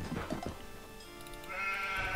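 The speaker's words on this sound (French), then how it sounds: "Ah, mais il y a plein de moutons en fait!" Sheep bleat in the Age of Empires II HD video game, a couple of loud, wavering, nasal calls over a low background rumble.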